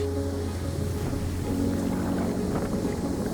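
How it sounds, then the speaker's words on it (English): An ambient field recording from Matador Beach plays back as a continuous, immersive wash of surf and wind noise with a low steady rumble and no voices. "listen to the playback of the recordings I made on Matador Beach"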